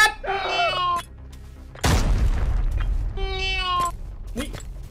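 A grenade goes off in the shooter game Arena Breakout with a single sudden, loud, rumbling blast in the middle. Whining, tonal sounds and voices come before and after it.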